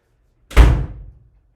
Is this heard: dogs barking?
no